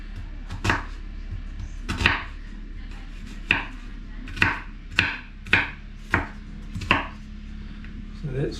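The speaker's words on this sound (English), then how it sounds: "I'll dice this up fine because my wife actually doesn't really like onion" A knife dices an onion finely on a cutting board with a series of sharp, separate chops, about nine distinct strokes spaced irregularly and close by.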